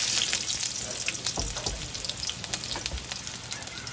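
Garlic and onion fry in a wok with a steady, bright sizzle, punctuated by scraping and stirring clatters from a utensil against the metal.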